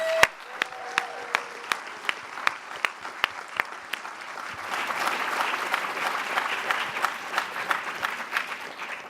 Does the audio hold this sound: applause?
yes